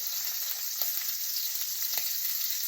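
Steak sizzling steadily in a hot pan, a constant bright hiss with a few soft taps and scrapes as it is turned, close and alone with no talk.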